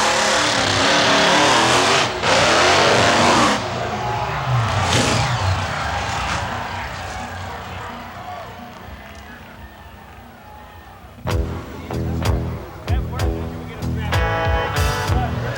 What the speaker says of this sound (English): the trucks go tearing across a stack of crushed cars